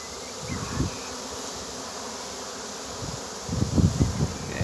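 A swarm of bees hums around old timber in a continuous, close buzzing drone that swells in the last second or so as more insects move past.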